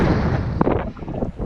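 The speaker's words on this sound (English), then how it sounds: "That's a big gust there." Strong northeast wind gust buffeting the microphone in remote bush while fishing from a raft, a loud continuous rumbling roar that swells and buffets throughout.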